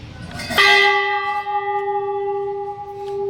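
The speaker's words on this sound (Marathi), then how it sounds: "बेल घंटा वाजवते का?" A large temple bell at a Jogeshwari Mata shrine is struck once, sounding a loud, clear metallic clang whose ringing tones hang and slowly fade for several seconds.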